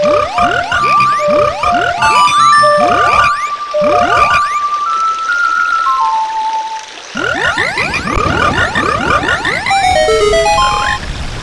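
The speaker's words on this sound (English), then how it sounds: "we're gonna play the Song of Storms first" Song of Storms is played on the ocarina in Zelda: Ocarina of Time, its bright tonal melody backed by a constant chorus of croaking, chirping river frogs. Loud and continuous, with no speech.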